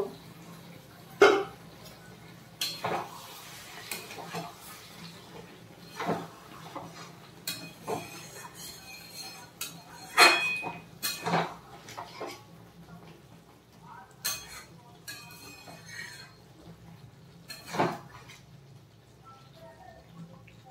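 A metal pot lid is lifted and a spoon stirs a sesame and pointed gourd dish in a home kitchen, making scattered clinks, knocks and soft scraping at irregular intervals over a quiet background.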